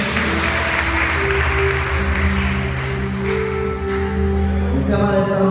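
A church congregation claps for the Lord during a worship service, with loud steady clapping under sustained organ or keyboard tones and singing voices.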